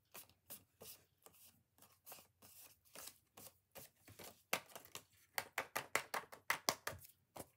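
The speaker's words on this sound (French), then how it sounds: "Hop, j'enlève toute la gomme." Rubbing out pencil marks with an eraser on card for a lace Christmas tree illusion card, a quiet run of short scrubbing strokes that quickens into a brisk, steady rhythm near the end.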